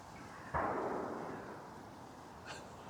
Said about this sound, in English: Farmer's out with his shotgun again